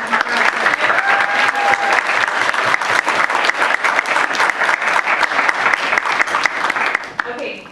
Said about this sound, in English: So everyone please give a round of applause for Bella.